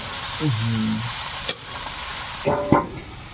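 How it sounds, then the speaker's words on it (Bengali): Wilted pumpkin greens stir-fried in a pan, soft sizzling under a few scraping spatula strokes and sharper knocks near the end, fairly quiet and close. "শাকগুলো অনেকটা নরম হয়ে গেছে আর কিছুক্ষণ নেড়ে চেড়ে ভেজে নিয়েছি"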